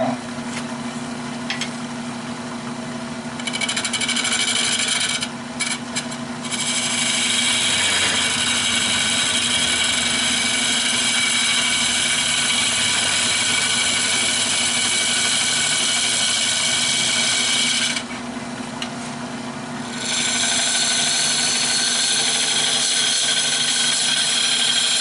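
A wood lathe spins a hexagon-rimmed bowl blank near 700 rpm while it is hollowed, a loud steady drone with a bright rasping cutting hiss that drops out briefly twice, then resumes.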